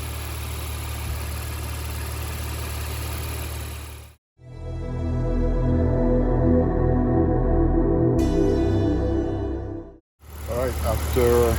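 A Porsche Macan engine idling after fuel pump replacement: a steady low hum, then a smooth, even idle drone recorded close, broken by brief dropouts, with a voice speaking at the start and end.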